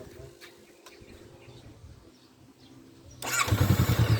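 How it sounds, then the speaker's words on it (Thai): A 2022 Honda CB500X engine cranks and catches, then settles into a loud, steady, throbbing idle close by after a quieter stretch of background noise. "แล้วสตาร์ทเครื่องให้ คุณผู้ชมดูหน่อยครับ ฟังเสียงเครื่องครับาฟังเสียงหน่อย"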